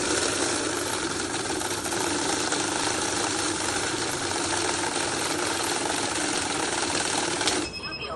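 A cash counting machine runs a stack of banknotes, one of them fake, producing a loud, steady whirring flutter that holds for about seven and a half seconds and then cuts off sharply near the end.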